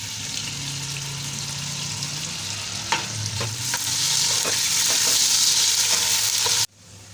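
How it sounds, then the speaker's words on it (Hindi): Onions sizzle in hot oil in a cooking pot, a dense steady hiss that swells slightly and then cuts off abruptly near the end. "जैसे ऑयल गर्म होगा हम इसमें ये अपनी प्याज डाल के इसको लाइट पिंक कलर देंगे।"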